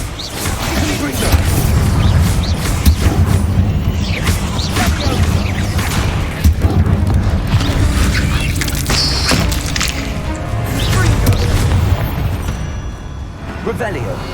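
Confringo fire spell blasts in the video game Hogwarts Legacy, with repeated booming explosions and crashing impacts over a loud continuous battle rumble, with talk mixed in.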